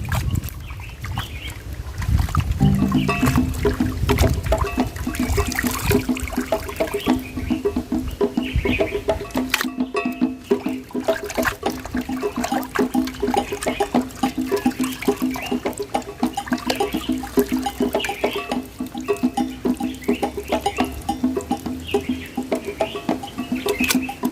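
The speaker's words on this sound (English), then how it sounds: "So this is the final round of washing." Cow intestines being washed by hand in water, with continuous splashing and sloshing close by throughout and a steady hum in the background.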